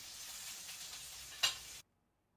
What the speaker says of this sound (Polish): to tylko Tiger smaży kotlety i suszy buty w okapie